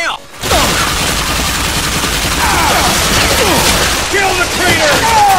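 Dense gunfire and explosive bursts fill a frantic firefight in the first-person shooter Bulletstorm, with continuous loud shots, booms and crashes layered over game voices and chaotic action throughout.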